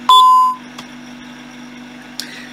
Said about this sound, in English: It gives off that one beep saying, yes, it accepted it.